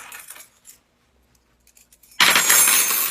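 A bunch of metal keys jangles and clinks, first in light scattered rattles, then a loud bright burst of close jingling near the end.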